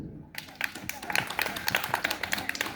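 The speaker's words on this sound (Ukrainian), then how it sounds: "Отож, ваші оплески." Audience applause at a city celebration concert honouring Ivan Franko, breaking out after a song: dense, steady clapping from a crowd that rises quickly and keeps going, close and fairly loud throughout.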